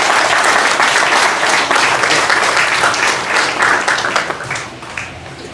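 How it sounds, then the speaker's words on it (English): Sustained applause from an audience at a Suriname Hindu Guyanese cultural organization anniversary celebration, steady dense clapping that fades slightly toward the end. "Can I have applause?"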